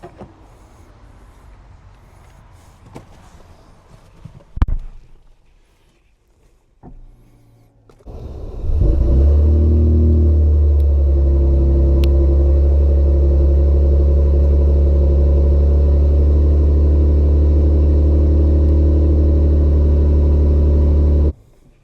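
A 2025 Toyota Tundra Platinum with the I-Force Max engine starts up on a test drive: a few quiet knocks, then a loud, steady low engine drone that holds evenly to the end, with no talking.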